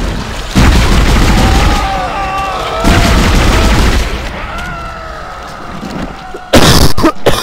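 An explosion in the horror video game Dead Space lands as a loud booming blast with heavy low rumble and tonal game effects, followed by a second sharp burst near the end.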